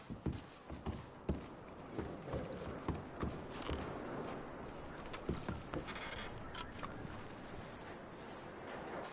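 Horses shuffle and step, with irregular hoof clops and knocks over a low rumbling background, louder at first then settling.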